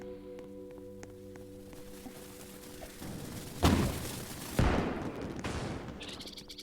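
Video game gunfire in a paintball-style team match, with a quiet tonal hum at first, then two loud close bursts of shots that trail into rattling noise, and a faint chirpy sound near the end.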